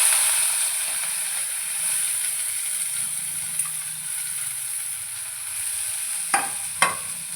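Spring onion frying in a pan with garlic paste and curry leaves, a steady bright sizzle heard up close, broken near the end by a couple of sharp stirring clinks.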